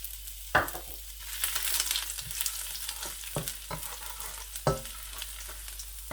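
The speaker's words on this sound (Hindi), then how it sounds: "ऑयल माशाल्लाह हमारा काफ़ी गर्म हो चुका है। सबसे पहले मैं इसमें अदरक जो है वो ऐड करूँगा।" Ginger hits hot oil at the start of a lamb stir fry, giving a bright sizzle, with a few sharp clanks of a utensil against the pan and no talking.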